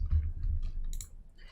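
A computer mouse is clicked during a graphic design software tutorial: one faint, short click over a low, steady background hum.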